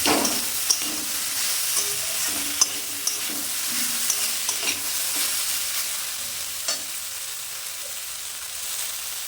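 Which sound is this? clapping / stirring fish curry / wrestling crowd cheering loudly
stirring fish curry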